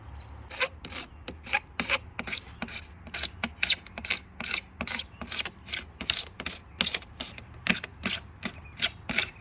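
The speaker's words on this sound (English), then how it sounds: "I'm going to scrape the rest of the caulk off here." Old caulk is scraped off a sliding glass door frame in rapid, rhythmic strokes. The dry rasping scrapes repeat steadily at close range, with no voices.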